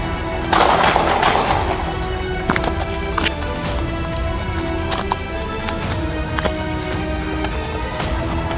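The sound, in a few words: gunfire during police shootout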